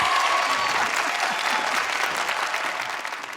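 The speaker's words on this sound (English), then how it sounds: "I'll give him one last round of applause, guys." Studio audience applause, dense and steady clapping that fades slightly toward the end, fairly close with no clear talk over it.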